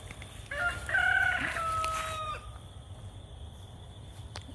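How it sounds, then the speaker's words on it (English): A rooster crows once, loud and near, followed by quieter clucking from nearby chickens, then a calm outdoor background. "these chickens want some scraps"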